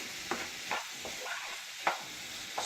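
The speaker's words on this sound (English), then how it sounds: "Just give it a nice stir." Vegetables coated in spicy Szechuan sauce, for butter chili garlic corn, get stirred in a pan: a few distinct scraping strokes at irregular intervals over a soft, steady sizzle, close and moderately quiet, with no talking.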